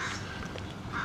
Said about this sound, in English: Gosh, listen to those birds.